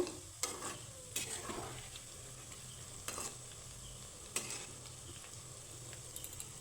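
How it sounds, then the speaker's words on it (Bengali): Pitha balls fry in a pan until they puff up and turn reddish, with a faint, low frying hiss broken by a few sparse stirring clicks and knocks at intervals. "খুব সুন্দর করে আমি নাড়িয়ে চাড়ে লাল লাল করে ভেজে নেব"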